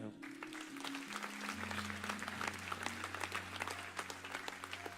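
A church congregation applauds, with steady dense clapping throughout, under sustained organ or keyboard tones and a faint voice.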